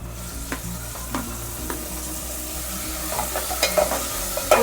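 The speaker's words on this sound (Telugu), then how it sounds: "ఇప్పుడు ఈ టమాటా వేసి" Tomato tossed into a hot pan for a gongura meal-maker curry, sizzling steadily while a spoon scrapes and stirs it in a few uneven strokes.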